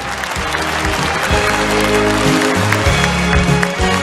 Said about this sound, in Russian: у меня почему-то есть ощущение, что аплодисменты должны быть гораздо-гораздо громче